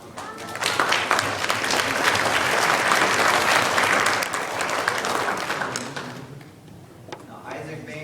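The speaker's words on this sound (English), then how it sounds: "So we can give him a round of applause." At a sports banquet, an audience gives a young athlete a sustained round of applause, thick and loud for several seconds before tapering off, with voices talking underneath as it dies down.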